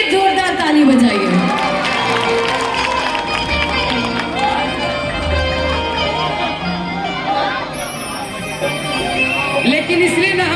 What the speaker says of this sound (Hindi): आप लोग एक बार अपने लिए जोरदार ताली बजाइए।